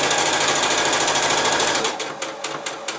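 A sewing machine set to its longest 4.5 mm stitch runs steadily and loudly, sewing a zip into a cushion, then slows into distinct separate rhythmic punches toward the end, without any talk.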